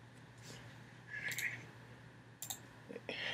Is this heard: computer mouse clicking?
yes